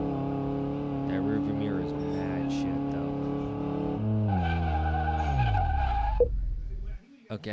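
Race car engine in a racing video game holding a steady drone, then braking hard with the pitch sweeping down and a skidding tire screech before cutting off near the end.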